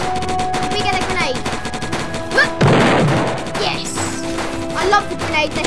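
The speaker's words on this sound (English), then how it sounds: "I love the grenade, they help so much." A grenade explodes in a Roblox zombie fight game, a loud burst of blast noise amid rapid continuous gunfire and game effects, close and dense throughout.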